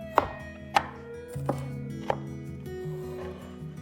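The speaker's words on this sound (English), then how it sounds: "Let's chop 3 cloves of garlic to create a pungent base for our dish." A knife chops garlic cloves on a board in a few distinct, spaced, close thuds, each followed by a ringing tail, with no voices.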